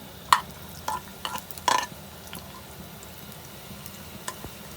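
Onions dropped into half a cup of hot oil in a pan, giving a sharp crackle and brief bursts of sizzling with a few clinks, then settling into a quieter, steady fry.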